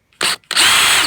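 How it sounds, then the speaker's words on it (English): A power drill bores a 3 mm vertical hole into wood clamped in a vise, with a short first burst, a brief pause, then a sustained loud whine close by. "3mm hole vertically,"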